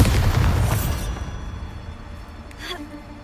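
A Bombarda blast spell from Hogwarts Legacy booms loudly at the start, its heavy low rumble fading over about a second into a quieter tail, followed by a brief faint crackle.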